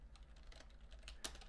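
Quiet, rapid typing on a computer keyboard, soft key clicks in an uneven patter with one sharper keystroke near the end, no voices.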